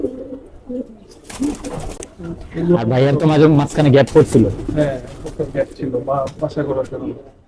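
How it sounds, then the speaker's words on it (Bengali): Racing pigeons collected from Cox's Bazar and Rangpur coo softly and low at the start, then continue faintly beneath close men's conversation. "এই যে একটা কবুতর মাশাআল্লাহ খুবই সুন্দর কবুতর"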